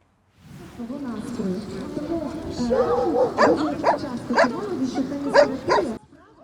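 Dogs bark in a series of sharp, loud yaps at an outdoor dog show and canine-therapy festival in a park, repeated through the second half over a steady murmur of crowd voices and talk.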